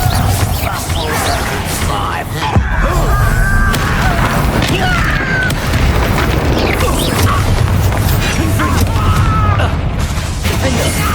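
A Bombarda blast spell detonating during a Hogwarts Legacy duel, heavy booming impacts and crashing debris amid whooshing spell effects, with voices calling out over the loud battle.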